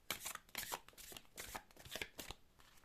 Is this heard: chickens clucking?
no